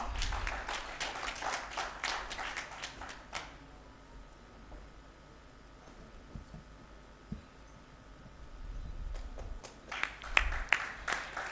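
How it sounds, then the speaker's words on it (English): Audience clapping at a medical education course ceremony, brisk applause at the start that fades to near quiet, then a fresh burst of claps near the end. "Please give him a huge round of applause."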